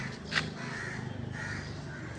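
A single crow caws once, clear and moderately close, over a faint steady background with no other clear sounds.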